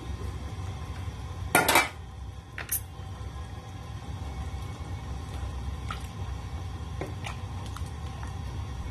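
A metal pot lid is set down onto a pot of simmering pork belly nilaga, making a short clattering clank followed by a lighter tap, over a steady low burner rumble and faint ticks.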